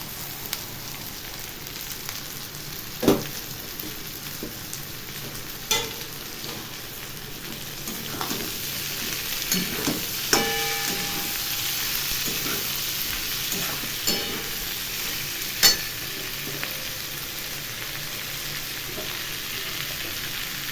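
Pre-fried vegetables stir-fried in a pan make a soft, continuous sizzle, broken every few seconds by sharp clacks of a utensil against the pan.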